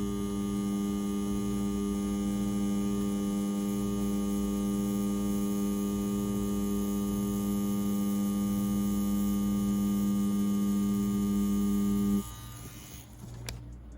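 A CNC WE Plus wireless tattoo machine runs with a steady, even electric hum and buzz that stays constant for about twelve seconds, then cuts off, leaving faint handling noise.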